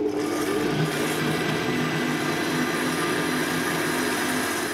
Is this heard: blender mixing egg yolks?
yes